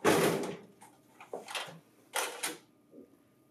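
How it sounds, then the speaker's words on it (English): A large printer is lowered onto its matching cabinet, giving a few short, fairly close thumps and a scraping knock in quick succession with brief pauses, heard alone without talk. "Align the printer with the cabinet, and then lower the printer into place."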